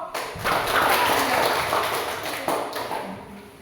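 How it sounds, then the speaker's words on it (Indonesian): A classroom group in Indonesia applauds another group after a discussion presentation, a short burst of clapping that fades gradually, with some room noise beneath. "tepuk tangan untuk kelompok"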